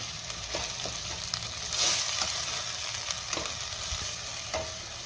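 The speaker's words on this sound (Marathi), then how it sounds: "पुन्हा सगळं व्यवस्थित मिक्स करून घेऊया।" Spice powders such as turmeric, onion-garlic masala, chilli powder and mutton masala stirred in a hot pan, a dense close sizzle with repeated scraping strokes of the spoon and no voices.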